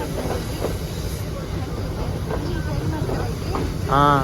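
Ooty toy train rolling slowly toward its parking spot, a steady mechanical rumble and hiss with faint clatter, ending in a short tonal horn-like sound; people talk nearby.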